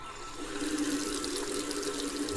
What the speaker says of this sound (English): I put the cup under the faucet and turned the handle,